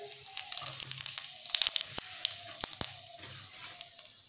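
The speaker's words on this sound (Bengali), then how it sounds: "এখন আমরা ফোড়নে যোগ করব 1 চা চামচ পরিমাণ গোটা জিরে" Whole cumin seeds hit hot oil for a Bengali tempering with melted sugar, a quick burst of crackling sizzle and sharp spitting pops that thins out over a few seconds, close and without speech.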